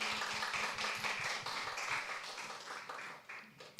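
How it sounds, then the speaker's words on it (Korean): Many hands clap together in a roomful of people at a church concert after a worship team performance, a steady wash of applause that gradually thins out toward the end. "다시 한번 큰 박수 부탁드립니다."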